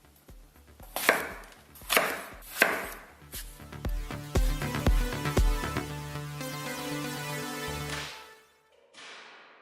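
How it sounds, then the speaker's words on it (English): A knife chopping apples on a board, a series of close, firm thuds, first slow and spaced, then a quicker run of cuts, ending in a short scrape and quiet. "So now let's chop some apples."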